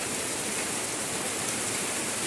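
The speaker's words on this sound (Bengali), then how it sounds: "প্রায় 20 মিনিট ধরে এরকম কিন্তু ছন্ন ছাড়া ঝমঝমিয়ে বৃষ্টি হচ্ছে।" Heavy rain pouring down in a dense, even hiss with no pauses across the short stretch.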